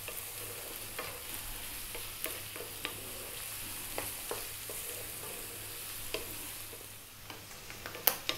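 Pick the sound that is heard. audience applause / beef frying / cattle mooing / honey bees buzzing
beef frying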